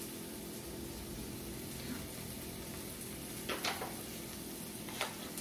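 Hamburger steak patties simmer in a skillet with a soft, steady sizzle and bubbling, interrupted by a few brief utensil clinks near the end.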